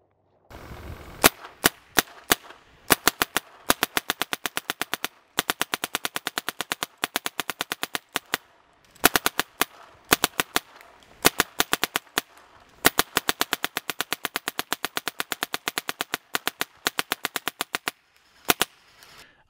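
An Action Markers Diadem electronic paintball gun fires rapid bursts of sharp, loud cracks, long rattling strings broken by brief pauses, close and with no talking.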